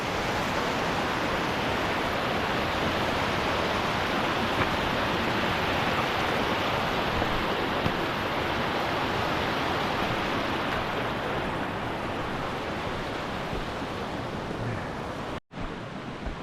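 Water rushing steadily down a mountain stream, a dense, constant broadband roar that stays even for the whole stretch and ends with a brief dropout near the end.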